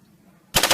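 A sudden loud burst of rapid gunfire at close range during firearms training, several quick shots running together after near silence.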